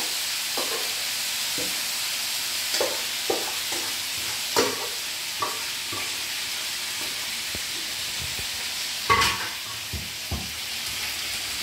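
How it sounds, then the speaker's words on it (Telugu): Thick pieces of chicken liver fry in a pan with a steady sizzle and hiss, broken by repeated short scraping clinks as the pieces are stirred. "ఇప్పుడు మనం దీన్ని బాగా కొంచెం ఫ్రై చేసుకోవాలండి."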